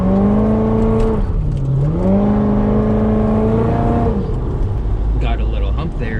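A supercharged Corvette runs on a rainy night, its engine droning loud and close with rising and falling revs and a whining note, as someone talks over it.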